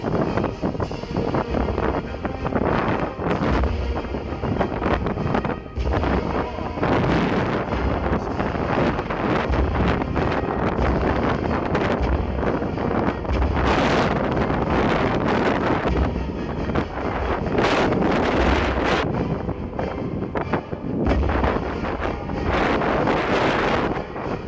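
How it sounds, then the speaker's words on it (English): Strong wind buffets the microphone on an exposed hilltop among trees, a continuous loud roaring rush with gusts swelling and easing throughout, no voices. "Really, really windy at times."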